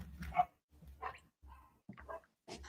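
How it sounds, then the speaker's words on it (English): Several dogs bark in short bursts at home, about five separate barks and yips spaced through the moment, fairly close and loud against a quiet room. "The dogs are barking."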